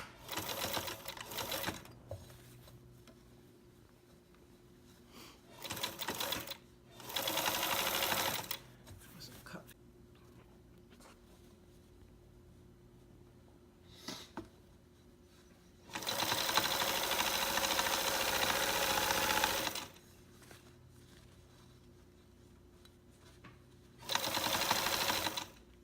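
A sewing machine stitches a back tack in several short bursts and one longer steady run, with quiet pauses in between.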